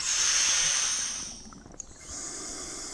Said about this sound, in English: The wheezing sound is just a regulator squeaking.